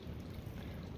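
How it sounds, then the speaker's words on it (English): Water running slowly through a gold sluice, a faint, steady trickling wash with no distinct breaks, heard alone without voices. "got the sluice running nice and slow"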